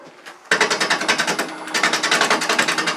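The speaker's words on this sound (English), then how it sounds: "I'm going to use a little heavier bowl gouge to handle that" A heavy bowl gouge cuts a bug-infested cherry burl spinning on a wood lathe, producing a loud, close, rapid rhythmic chatter that begins abruptly and continues steadily, each pulse marking the uneven burl striking the tool.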